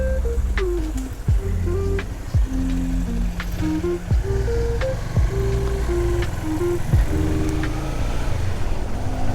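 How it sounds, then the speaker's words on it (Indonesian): A motorcycle engine warms up on a solo touring trip in Bali, Indonesia, idling loud and close with a steady low rumble and a few small shifts in pitch. "Manasin motor."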